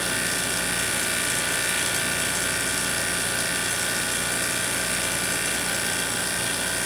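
A vacuum pump on a neon-filled gas discharge rig runs continuously, a loud, steady mechanical whir and rattle with no pauses and no talking.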